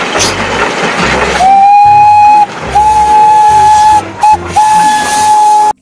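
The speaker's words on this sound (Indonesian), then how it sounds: "Widih-widih, kereta Thomas." A toy Thomas train lets out loud, shrill steam-whistle toots, several long sustained blasts broken by short gaps and brief chuffs, close and dominant with no talking.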